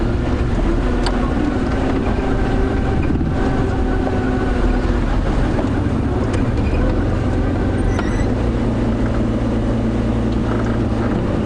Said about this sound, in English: I'm just keeping the car in low range, that's why it's making that whiny sound